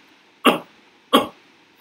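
Two sharp single coughs, about half a second apart, each a short harsh burst with a quick fade, close by and otherwise quiet.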